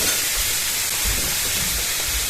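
A simple vegetable sour curry boiling hard in a pot makes a loud, continuous hissing rush with soft low bubbling pops underneath, heard close and without any talking.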